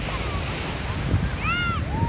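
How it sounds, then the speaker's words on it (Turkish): Gentle sea waves wash steadily along the beach at Kuşadası, a continuous soft surf rush with some wind, and a few brief high tonal sounds float above it. "az dalgalı bir deniz var."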